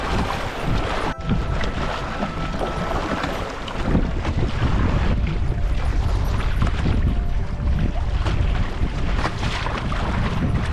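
Strong wind buffets the microphone while a Hobie Adventure Island sailing kayak crosses open water, a steady loud roar with low gusting rumble and water wash throughout, a brief dip near the start.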